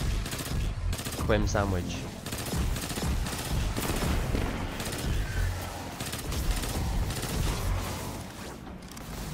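A powerful gun in a video game fires repeated sharp reports in bursts with a heavy kick, while someone talks over the shots throughout.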